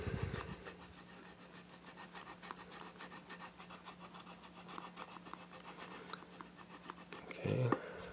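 A 1500-grit fret eraser polishes guitar frets, a faint, fast, rhythmic scrubbing of back-and-forth strokes running steadily, with a brief bump near the end.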